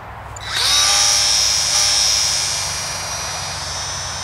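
Flyzone Nieuport 17 micro RC airplane flying, its small electric motor rising to a high, steady whine after a brief spool-up, then easing slightly as it continues alone without talk.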